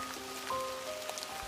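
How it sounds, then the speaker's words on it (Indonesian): Rain falls steadily on a surface with a soft, continuous patter, plus a few faint tonal sounds in the background, and no voices. "kamu gila ya hujan-hujanan gini?"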